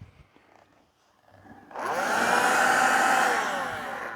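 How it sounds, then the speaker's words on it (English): A Kärcher battery-powered window vacuum starts up after a quiet moment and runs with a steady, loud, high-pitched motor whine and airy rush that holds for a couple of seconds. "I think it's actually just a vacuum"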